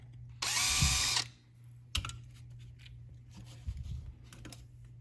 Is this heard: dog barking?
no